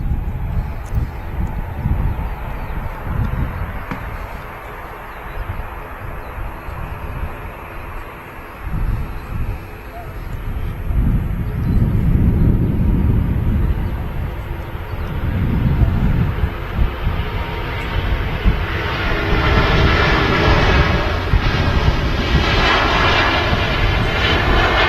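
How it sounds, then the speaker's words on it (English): A Singapore Airlines Airbus A350 jet takes off at Manchester Airport. Its engine roar builds from a distant rumble into a loud, sustained blast, with a rising whine layered on top as the jet climbs. "the Singapore A350 is ready to go."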